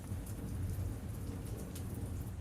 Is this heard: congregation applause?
no